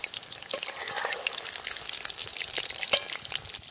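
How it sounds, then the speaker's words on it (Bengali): Chitol fish balls fry lightly in hot oil, giving a continuous close sizzle and crackle with occasional louder pops and stirring noises, and no voices. "বেশি লাল করে ভাজবো না, হালকা করে ভেজে তুলে নেব"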